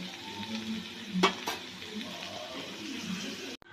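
Onions fry in oil until golden, giving a low close sizzle with a sharp clatter early on and a brief cut-out near the end, quiet and free of talk.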